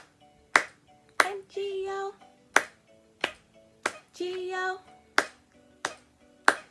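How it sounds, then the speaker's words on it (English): Hands clap in short sharp bursts along to a children's Bingo song in a pre-K morning session, with children singing in between the claps. "now this time clap three times"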